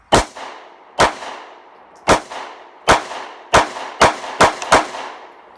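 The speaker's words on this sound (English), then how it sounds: "So that was a little bit faster shooting." Eight sharp pistol shots from a Smith and Wesson 9mm with Apex trigger, loud and close, spaced about a second apart at first and then coming faster in a quick string.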